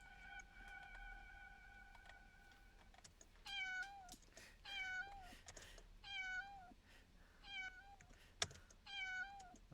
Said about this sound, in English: That was my cat meowing back there.